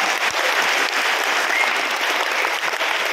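Dense, sustained audience applause at the 2022 Aram awards ceremony in Chennai, loud and even from start to finish with no voices above it.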